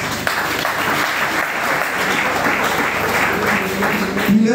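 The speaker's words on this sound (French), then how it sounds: "Je vous en prie de les applaudir" A hall audience applauds at a formal gathering, dense steady clapping filling the whole stretch at close range, with no gaps and no speech on top.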